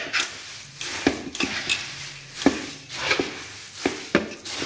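A spoon scrapes and clinks against a pan as puffed rice (chirmure) is stirred with its tempering, in irregular close taps and scrapes with no voices.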